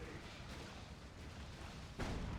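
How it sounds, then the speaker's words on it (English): Orbital bombardment explosions in Dawn of War 2: Retribution rumble as a low, continuous barrage of distant booms, swelling to a heavier blast at the end. "now the tank will just push through an orbital bombardment to top it all off"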